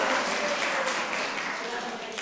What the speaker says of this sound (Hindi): बड़ी हिम्मत वाला काम किया ताली बजाओ भाई इसके लिए तो